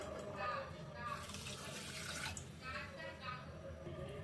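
Water poured into a pot to make sugar syrup runs in a steady splashing stream, fairly quiet, with faint talk underneath.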